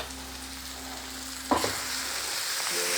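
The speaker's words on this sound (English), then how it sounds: "I will just saute this for around 30 seconds, making sure that we don't burn the masala." Spice masala of cumin powder, coriander powder and red Kashmiri chili powder sautéing in a pan, a soft continuous sizzle with a brief clatter of stirring midway.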